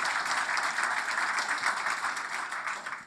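Warm audience applause following a talk on the economy, steady dense clapping from a sizable crowd that holds evenly for a few seconds.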